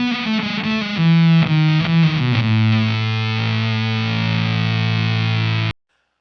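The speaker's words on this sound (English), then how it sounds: "see how it sounds more octavey, less fuzzy, and less gnarly?" Electric guitar through an octave fuzz pedal, a few gritty notes sliding down into one long sustained buzzy note that cuts off abruptly.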